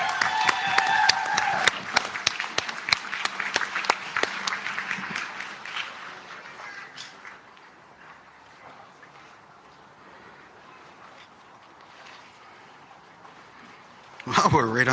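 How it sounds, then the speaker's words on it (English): An outdoor audience at a First Nation community event claps loudly for a few seconds, then the applause thins and fades into wind and quiet ambience, with a brief louder burst at the end. "How about another round of applause for Scalep?"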